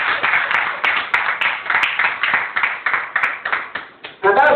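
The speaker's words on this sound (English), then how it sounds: "Women, can you clap for yourself?" An audience at a women entrepreneurs' chamber of commerce event in Port Harcourt claps loudly in a sustained burst of applause, with a voice starting up at the very end.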